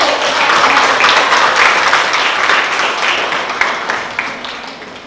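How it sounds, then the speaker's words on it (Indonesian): Applause for a group of vocational fashion students fills a classroom, a dense sustained clapping from many hands that starts loud and gradually fades toward the end. "beri aplaus buat kelompok 1"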